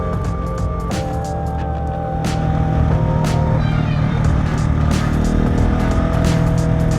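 A KTM 690 SMC R supermoto motorcycle, 2021 model, runs under load and shifts into second gear, its engine note stepping up and growing louder and steadier with passing wind and road noise.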